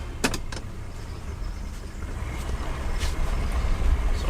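A Mercury Cougar barn find that sat for 40 years runs again after a restart, its engine holding a steady close rumble after a couple of sharp clicks at the start.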